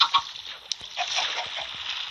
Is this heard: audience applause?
no